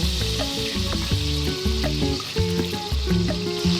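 Barbecue sauce sizzles steadily in a hot pan with pork tenderloin, a continuous frying hiss heard close up beneath background music.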